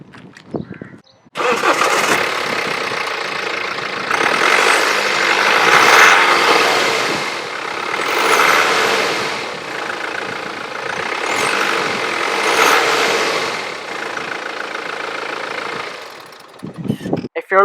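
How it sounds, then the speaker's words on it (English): A 2010 BMW 320d SE Touring diesel engine cranks, catches and revs in loud rising and falling surges for about fifteen seconds, close by, with no talk over it. "Let's hear this engine start up and rev."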